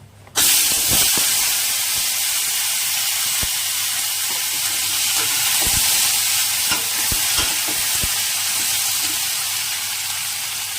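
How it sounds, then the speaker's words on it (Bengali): Dried red chillies and panch phoron dropped into hot oil in a steel wok, sizzling and crackling loudly and steadily, with occasional sharp pops and stirring scrapes, no talk. "চলো এর মধ্যে কটা শুকনো লঙ্কা ফোড়ন দিই"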